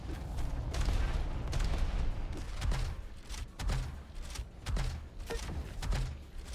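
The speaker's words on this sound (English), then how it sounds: "nice grenades bouncing around there" Grenades bounce and burst in the arena shooter Diabotical: a continuous run of sharp, punchy explosions and thuds repeating every half second or so over a dense, loud backdrop of game action.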